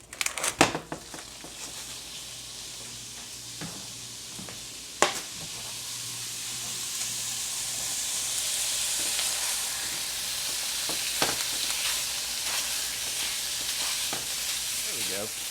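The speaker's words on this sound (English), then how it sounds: "now we're going to add our ground beef and cook our ground beef" Ground beef sizzles and fries in a skillet with a steady, bright hiss that builds over time. Occasional scrapes and clatters of stirring break through, and there is no talk.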